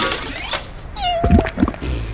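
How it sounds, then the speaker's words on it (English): A cat in the video game Little Inferno meows loudly while being set on fire, a clear plaintive cry amid crackling and thumping game sounds. "You can light the kitty on fire."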